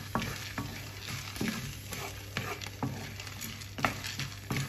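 Nuts, cashews among them, frying in a pan, a soft continuous sizzle with repeated stirring scrapes and taps, close and fairly quiet, no talk.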